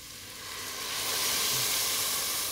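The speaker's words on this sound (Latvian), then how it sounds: "Un tad lejam klāt ūdeni." Water poured into a pot of hot vegetables and finely chopped chili for a tomato and shrimp soup sets off a loud, swelling hiss and sizzle that builds and then holds steady, close and unbroken.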